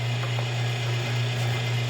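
A meat grinder working venison sausage meat, fed with a plastic plunger, gives a steady, loud mechanical drone with a low hum and faint ratcheting clicks throughout, with no talking.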